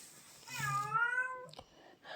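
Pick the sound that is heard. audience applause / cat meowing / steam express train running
cat meowing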